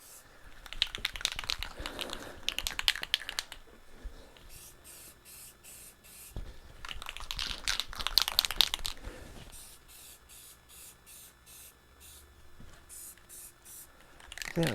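Spray gun applying paint to a truck, hissing in long bursts that start and stop, fairly close, with quieter rattling ticks in between and a little talk.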